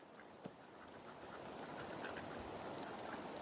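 A flock of ducks on the water quacks steadily over several seconds, many soft overlapping calls at middle distance under a constant wash of background noise.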